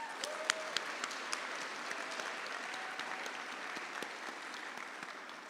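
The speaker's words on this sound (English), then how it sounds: "give them a round of applause" Audience applauding faculty and staff members at an AAPI recognition celebration, a steady wash of many hands clapping with a few sharper claps standing out near the start, moderately loud throughout.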